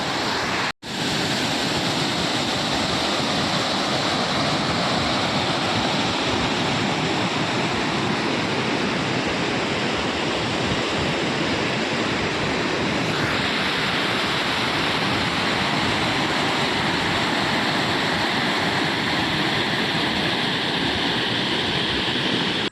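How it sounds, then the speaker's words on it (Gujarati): Water rushing steadily through a farm channel, a loud continuous roar of flowing water close to the listener, with wind buffeting in places. "પાણી જો સામે જાય છે પાણીનો અત્યારે ફૂલ જાય છે આમથી પાણી આવે છે"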